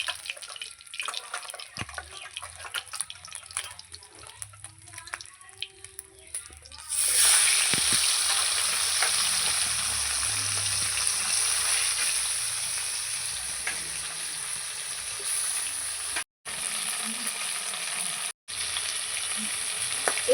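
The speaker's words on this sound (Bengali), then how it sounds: "মাছগুলো আমার ভাজা হয়ে গেছে" Bhetki fish pieces frying in hot oil in a home kitchen, beginning as a low bubbling and then rising to a steady, loud sizzle with faint clinks and two brief breaks.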